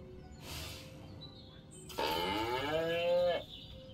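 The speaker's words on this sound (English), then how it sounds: "Again with the moo." A cow in the video game Destroy All Humans! lets out one long, drawn-out moo, loud and close, with fainter game ambience before it.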